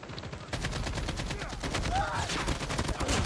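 Rapid automatic AK-47 fire in the mobile shooter game CoD Mobile, a dense, loud, evenly spaced stream of shots that runs almost without pause after a short lead-in.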